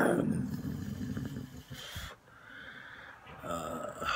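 A voice imitates a wildcat with raspy, snarling, wheezy growls, rising and falling over about four seconds with a brief gap in the middle.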